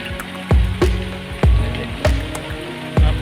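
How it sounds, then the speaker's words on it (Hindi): Rain falls outdoors at a paddy field in Haryana with several loud, irregular heavy drops or splashes striking close by, over a softer wet background patter. "देखो कितनी तेज बारिश आ रही है।"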